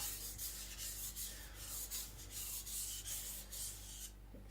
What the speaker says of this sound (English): If you imagine when I'm going this way on the stone, this way, going a little up, a little down, a little up.